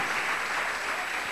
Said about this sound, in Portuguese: Aplauda o Senhor, meus irmãos.